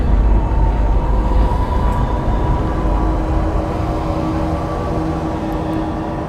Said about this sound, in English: New York City subway.